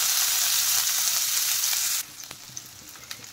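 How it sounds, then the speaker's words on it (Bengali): Chopped onion hitting hot oil in a wok, a loud dense sizzle for about two seconds that suddenly drops to a quieter crackle with a few soft pops. "দিয়ে দিলাম তেল, তেলের মধ্যে দিয়ে দিলাম কুচনো পেঁয়াজ"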